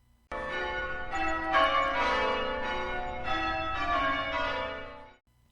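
A full peal of church bells rings for a wedding, overlapping strikes ringing out loud and continuous for about five seconds before stopping abruptly.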